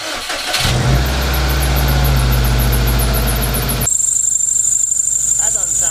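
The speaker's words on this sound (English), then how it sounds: "this just kept squeaking and squeaking and kept getting louder and louder" A car engine cranks and catches, then idles loudly while a drive belt squeals in a rapid, chirping high-pitched series; partway through the tone shifts to a thinner, sustained whine over the running engine.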